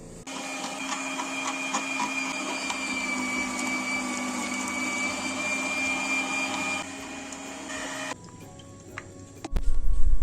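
An electric meat grinder mincing lagenaria gourd for a salad, a steady motor whine with ticking mechanical rattles running for about eight seconds, then switching off, followed by a few clunks.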